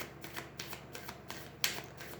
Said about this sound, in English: let's pull cards to represent